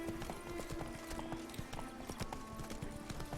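Horse hooves clip-clop steadily in The Witcher 3: Blood and Wine, a brisk, regular beat of close hoofbeats carrying on throughout with a faint tonal backdrop.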